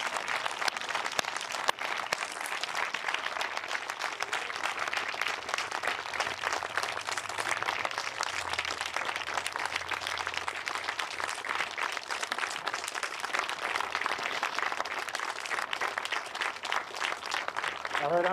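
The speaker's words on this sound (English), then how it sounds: "Give them a round of applause" Sustained audience applause fills a military change-of-command ceremony for the 11th Airborne Division, a dense, steady wash of many hands clapping at moderate distance for the whole stretch without letup.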